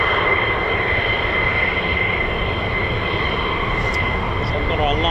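A military fighter jet departs RAF Lakenheath, home of the 48th Fighter Wing, with a continuous loud, broadband roar. The sound stays steady and full through the whole clip, with no talk over it.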